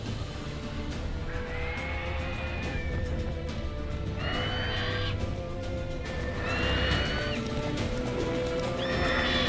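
The horse Roach from The Witcher 3 neighing repeatedly, several loud whinnies spaced a couple of seconds apart over hoof clopping and game ambience.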